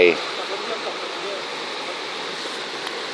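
A forest stream with a small waterfall gives a steady, fairly loud rushing wash of water that stays even throughout, with a brief voice at the very start.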